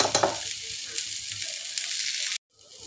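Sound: onion roasting and sizzling in a pan for chana masala

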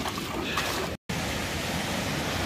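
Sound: water flowing out of the side of a limestone mountain

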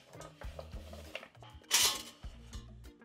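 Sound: carrot chunks put into a pot lined with a steamer

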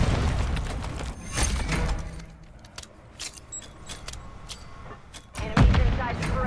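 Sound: grenade explosion in the video game Call of Duty: MW3

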